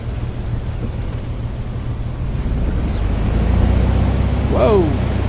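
Brief squeaks of tires from an A2A Bonanza V35B in the FSX flight simulator, heard as a short chirping burst near the end over a steady engine drone and rushing wind.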